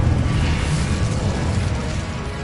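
A fire spell cast in Hogwarts Legacy gives a loud, dense whooshing roar of flame that holds steady for the whole short moment with no talking over it.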